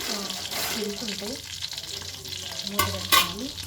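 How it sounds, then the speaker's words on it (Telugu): Slit stuffed eggplants deep fry in hot oil, a bubbling sizzle with clattering stirs near the end, while a voice talks faintly underneath. "ఇలా వీటిని ఆయిల్లో డీప్ ఫ్రై చేసుకోవాలి"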